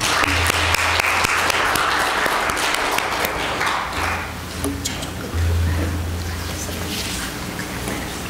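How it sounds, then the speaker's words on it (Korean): Congregation at a church service applauding, a steady wash of clapping that continues for several seconds with a low hum beneath and a slight dip midway. "박수 부탁드립니다."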